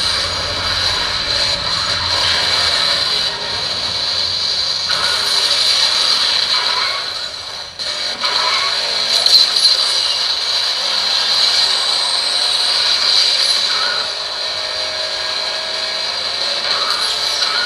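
The Asphalt Airborne racing game plays on an Honor 9 Lite phone at high graphics settings, giving a steady, loud engine-like drone with a bright tonal hum and some swelling surges, and no talk.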